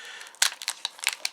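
A Pokémon booster pack is torn open by hand, giving several sharp crinkling foil rips and crackles in quick, irregular bursts, close and fairly quiet, with no voices.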